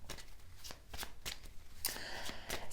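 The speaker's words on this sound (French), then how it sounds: "Je vais recouvrir quand même avec une carte." A tarot card laid down and shuffled during a card reading, heard as a quick series of soft close papery flicks and slaps.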